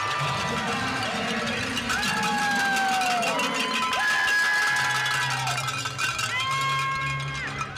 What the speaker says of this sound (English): Folks, just listen to the crowd.